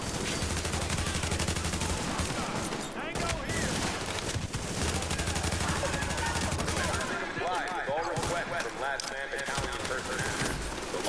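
A firefight from The Division, with bursts of rapid automatic gunfire and scattered shots over several seconds, mixed with shouted voices and chatter.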